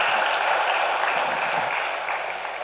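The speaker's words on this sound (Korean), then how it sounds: "다시 한번 박수로 격려합시다." A church congregation claps in sustained applause for the choir during a Sunday worship service, a dense, steady wash of hands that continues evenly throughout, with no speech over it.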